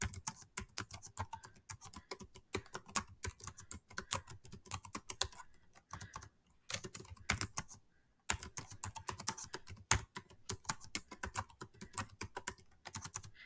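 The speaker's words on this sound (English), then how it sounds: "I'm going to click the space bar twice, and I'm going to start typing my next sentence." Rapid, steady clatter of keys on a computer keyboard, close and continuous, with a brief pause partway through before the typing resumes.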